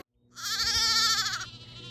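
Jacob sheep on a farm with irrigated pasture giving a single loud, close, wavering bleat lasting about a second, then trailing off.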